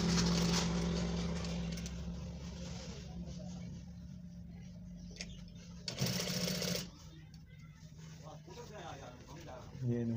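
A sewing machine sews silk thread to attach a collar, running in a loud, close, continuous buzz that eases and surges, with a voice speaking at times.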